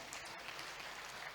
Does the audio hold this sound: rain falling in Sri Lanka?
no